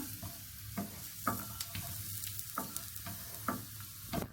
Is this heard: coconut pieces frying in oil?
yes